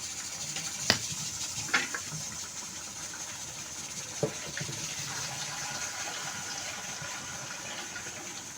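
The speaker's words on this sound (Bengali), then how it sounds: "এখন আমি ঝোলটা দিয়ে দেব" Broth is poured into a pan of hilsa fish curry with tomato, a soft steady watery trickle and sizzle with a few faint clinks of utensils throughout.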